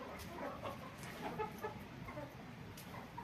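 Hens cluck in a continuous, busy chatter close by, several birds overlapping with short clucks, among a backyard flock that includes a red hen.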